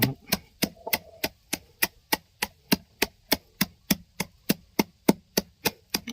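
Roasted coffee beans being pounded, likely in a mortar: a steady run of about eighteen sharp, evenly spaced thuds, roughly three per second, close and distinct against a quiet background.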